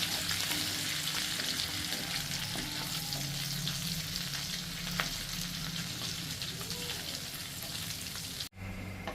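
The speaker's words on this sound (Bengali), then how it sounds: "সেই তেলের মধ্যে আমি ফোড়নগুলো দিয়ে দেব শুকনো লঙ্কা তেজপাতা গোটা জিরে আর ফেটো করা এলাচ আর দারচিনি" Whole spices, dry red chilli, bay leaf, cumin, cardamom and cinnamon, crackling in hot oil for a prawn malai curry, a steady loud sizzle with faint stirring, close and continuous, briefly cut near the end.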